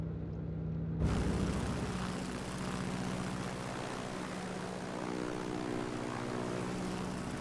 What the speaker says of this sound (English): the sound level when you pull back to cruise power drastically comes down